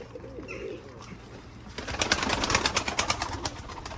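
Pigeons coo and call nearby, soft at first, then a denser, louder run of calls and rustling in the second half, with no talking.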